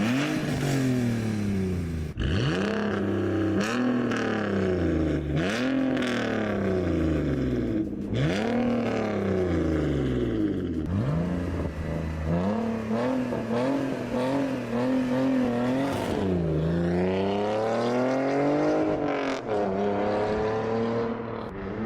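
A car with an aftermarket straight-through valved exhaust, valves open, revs hard in repeated loud bursts, each pass swelling and dropping in pitch as it roars close by and fades, with crackly overrun between pulls.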